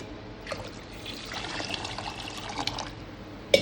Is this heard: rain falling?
no